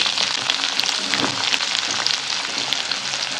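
Potatoes and onions fry in a pan with a dense, steady sizzle that holds at an even, fairly loud level throughout, with no voices over it.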